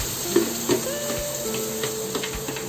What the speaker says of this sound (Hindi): अब मैं इसमें डालूंगी ग्रेवी जो मैंने प्याज टमाटर की भून करके बनाई।